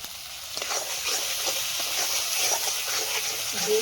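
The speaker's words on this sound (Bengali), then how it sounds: "এবার এর মধ্যে দিয়ে দেবো কাজু বাদাম মৌরি আর সর্ষে একসঙ্গে বাটা" Ground paste of cashew nuts, fennel and mustard frying with spices in a hot pan, giving a steady close hiss and sizzle throughout with no voices.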